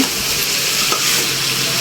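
Marinated food fries in a pan with a loud, close, steady hiss and sizzle and no voices.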